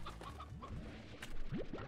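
Stony Hen chicken in the video game Slime Rancher clucking in a few short, rising squawks over a busy game soundscape, with the last pair of clucks coming loudest near the end.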